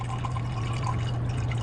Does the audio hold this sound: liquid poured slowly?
yes